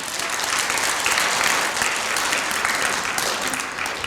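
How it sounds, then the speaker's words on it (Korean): A church congregation breaks into dense, sustained applause during a Sunday sermon, a loud, even wash of many hands clapping that fills the room without talk. "하나님께 영광의 박수 한번 돌릴까요?"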